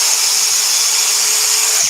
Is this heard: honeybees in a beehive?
no